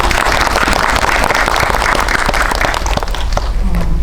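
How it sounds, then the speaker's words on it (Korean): Audience at a Korean film screening with the director and actors present claps loudly and close, a busy patter of hands that stays strong throughout. "박수 부탁드릴게요."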